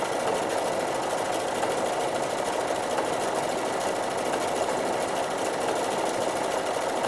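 A sewing machine stitches a single pattern, giving a steady, loud, continuous mechanical whir that runs unbroken from start to finish with no talk.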